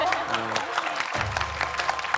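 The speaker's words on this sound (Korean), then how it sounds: "아까 연예인 누나한테 박수 안 나오더니 질문은 박수가 나오네" Studio audience applause forms a steady clapping wash while someone talks over it.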